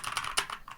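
Quick keystrokes on a computer keyboard tap out a brief, fairly soft run of clicks, with one sharper key press standing out in the middle.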